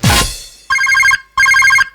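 A telephone bell rings in two short bursts of rapid trilling, loud and close, after a brief thump at the start.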